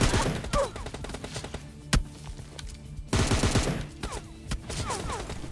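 Gunfire in the PUBG Lite video game: several sharp bursts and single shots crack out in quick succession, with loud clusters near the start and around three seconds, set against a quieter game backdrop.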